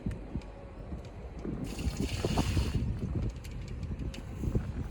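Liquid from a septic tank sample being poured back into the tank, a broad splashing wash that swells for about a second at mid-clip over steady outdoor wind noise.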